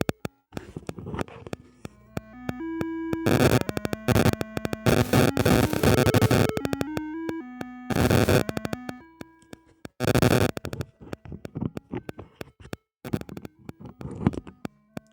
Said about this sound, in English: Raiders of the Lost Ark has a pretty good intro, and it has a consistent looping song